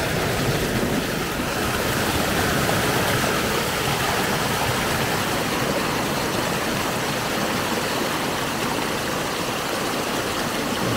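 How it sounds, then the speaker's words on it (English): Water pours out through the sluice at the end of a permaculture swale, a loud, continuous rushing wash heard close and steady throughout, with no talking. "You see how the water level drops because it runs out there."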